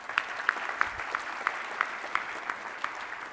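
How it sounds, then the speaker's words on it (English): Sparse, quiet applause from a small audience at a tech talk on a platform's evolution in Singapore, a few hands giving a short, thin round of claps that fades quickly. "let's give them a quick round of applause"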